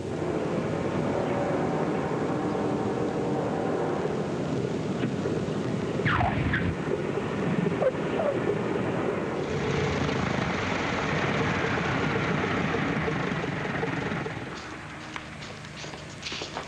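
A propeller airliner comes in to land, a steady loud engine drone sustained for most of the stretch, easing lower and quieter near the end.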